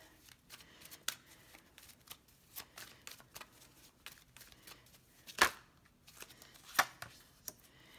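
A deck of tarot cards is shuffled by hand, giving a close, soft, papery riffle with a few sharper slaps and flicks scattered through it.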